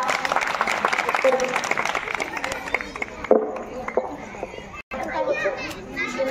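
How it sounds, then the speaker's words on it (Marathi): Audience applause at a Women's Day event held at a temple, a dense spread of clapping mixed with children's chatter and crowd voices, continuing with a brief drop midway before picking up again. "टाळ्या वाजवा."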